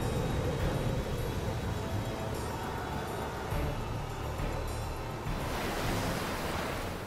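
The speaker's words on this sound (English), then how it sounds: "Wild water rages down the mountainsides and roars into the valleys." Flooded mountain river water roars in a dense, steady rush of noise, fairly loud and unbroken from start to finish with no voices over it.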